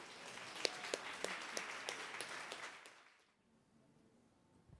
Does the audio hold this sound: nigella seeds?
no